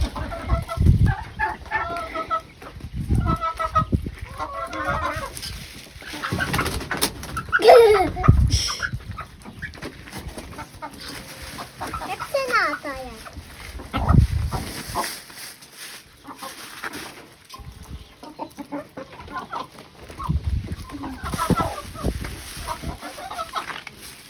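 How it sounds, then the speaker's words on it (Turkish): Hens being let out of a village barn cluck intermittently at close range amid rustling and a voice talking, with scattered farmyard noises throughout. "Annem şimdi tavukları dışarıya çıkaracak"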